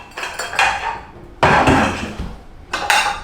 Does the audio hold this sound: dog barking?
no